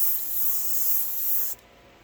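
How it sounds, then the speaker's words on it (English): A spray gun lays down a fine, faint mist of paint on a Harley motorcycle in a steady soft hiss that cuts off abruptly after about a second and a half. "I'm looking for a really like almost imperceptible spray like that."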